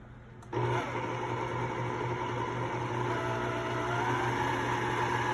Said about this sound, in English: We're gonna turn the mixer back on.